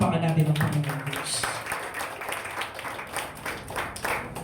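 A church congregation applauding, with scattered clapping that rises after a moment and continues at moderate volume.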